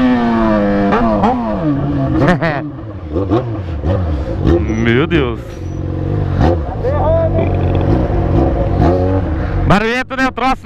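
A Yamaha XJ6 motorcycle with its original exhaust revs hard and close, its engine note rising and falling through repeated throttle blips, with a voice exclaiming over the noise.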